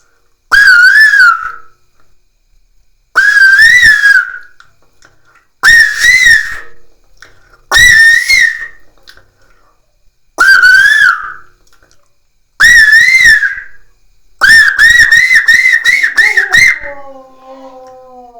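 A man whistles by mouth in a series of loud, separate bursts, first imitating a blaring horn and then a koel's rising call, ending in a rapid trill and a lower sliding tone, heard alone without talk.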